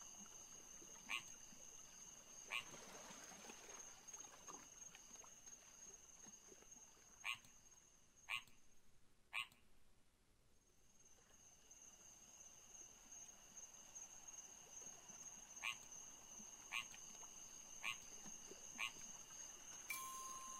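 A frog croaking in the puzzle video game Rusty Lake Paradise, heard as a string of short, clicky calls spaced a few seconds apart over a faint, steady ambient drone with insect-like buzzing.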